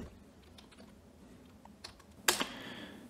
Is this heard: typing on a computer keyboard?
yes